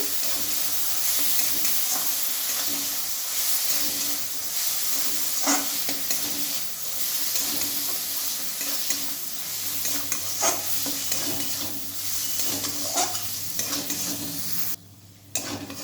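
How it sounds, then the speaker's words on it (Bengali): Tomato paste and spices frying over low heat in a pan for a cabbage curry, steady sizzle with repeated spatula scrapes and stirring strokes, close and continuous. "আমি মশলাগুলোর সঙ্গে টমেটো বাটা মিক্স করে নিলাম"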